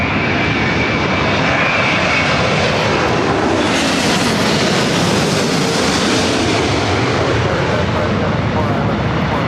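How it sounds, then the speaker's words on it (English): A Boeing Dreamliner arriving from Haneda gives a loud, continuous jet roar that fills the whole stretch and swells slightly midway, heard close at an airfield. "This Dreamliner coming in from Haneda."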